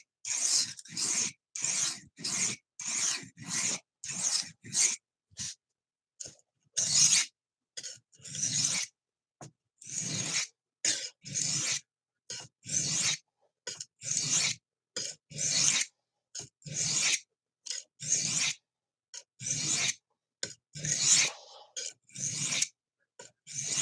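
A stainless steel knife is drawn across a sharpening stone in repeated rasping strokes, a regular rhythm of short scrapes with brief pauses between, close and fairly quiet.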